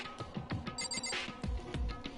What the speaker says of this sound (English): It's just like, oh, it's a phone.